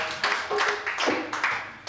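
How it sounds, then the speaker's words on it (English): Crowd applause for a band at an AS220 cabaret show, uneven bursts of clapping with a few sharp louder claps and some cheering voices mixed in, moderately close. "round of applause"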